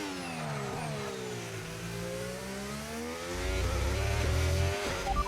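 F1 car in F1 25 at Spa, its engine droning steadily through a lap with rising and falling pitch as it shifts, then a louder, deeper surge toward the end.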